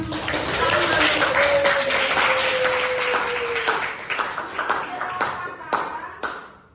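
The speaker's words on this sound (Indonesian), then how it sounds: "Tepuk tangan." Students in an Al-Qur'an classroom clap their hands together in a dense burst of applause, loud at first and thinning into scattered claps, with a teacher's voice and sustained tones faintly underneath.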